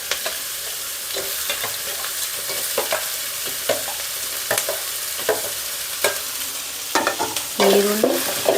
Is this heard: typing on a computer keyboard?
no